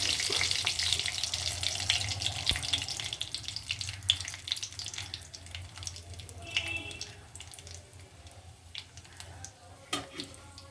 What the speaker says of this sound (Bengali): এবার আমি ফুলকপির ঝোলটা ঢেলে দেবো